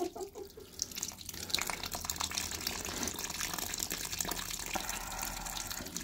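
Water gushes and splashes steadily out of an aqua bag as it is emptied, a continuous, noisy pouring wash with dripping spatter, fairly close and fairly loud throughout.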